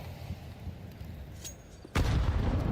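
Grenade blast in a Counter-Strike pro match, a low rumbling backdrop with faint pops and then one sudden loud close explosion that keeps booming to the end.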